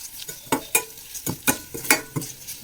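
A spoon stirs and scrapes through a dry corn chivda snack mix in a pan, about a dozen quick, uneven strokes with light rattling, close up and with no voices.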